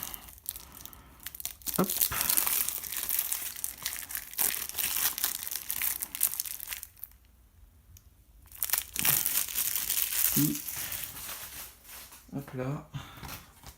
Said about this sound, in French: Donc j'y arrive pas à la main, donc on va prendre le ciseau.